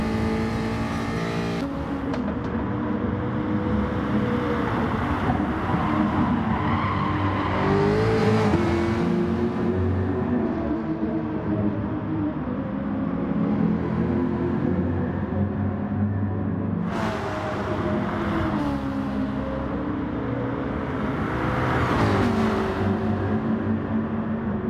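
Race cars in a sim racing endurance event at the Nürburgring GP circuit brake and accelerate, engines howling up and down through gear shifts and downshifts, loud and close with no talk.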